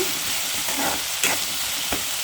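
Onions fry in oil with a steady, dense sizzle and a few soft stirring scrapes, close and fairly loud.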